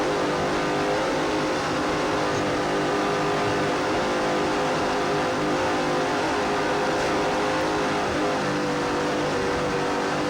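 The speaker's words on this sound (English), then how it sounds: "Just listen to those engines." Racing powerboat engines roaring at the start of the 1993 Quake on the Lake race, a dense, steady, loud engine drone that continues unbroken throughout with no speech.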